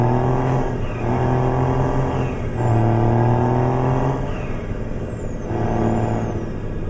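A Western Star 4900EX truck engine in American Truck Simulator drones steadily with a low rumble and faint whine, rising and falling gently, with no voices.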